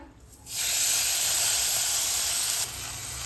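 Soaked barnyard millet (varai) tipped into hot ghee with cloves sets off a sudden loud, steady sizzle that holds for about two seconds and then drops away.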